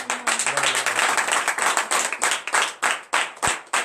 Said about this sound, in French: je t'invite à donner de vives acclamations à notre Seigneur Jésus